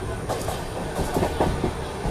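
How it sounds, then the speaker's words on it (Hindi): An Amrit Bharat Express train runs without stopping through Sitarampur Junction station, heard as a steady rumble with a quick clickety-clack of wheels over rail joints. The sound is close and continuous, with no voices. "अभी अपनी train Sitarampur junction railway station को स्किप कर रही है।"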